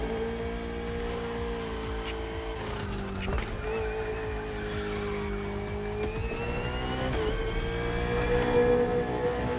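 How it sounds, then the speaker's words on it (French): Race cars in The Crew Motorfest video game, a KTM RC16 against a Ferrari 488 GT3, with sustained engine drone and shifting revs, brief tire squeals, continuous and fairly close, no talking. "On track this evening, the KTM RC16 takes on the Ferrari 488 GT3."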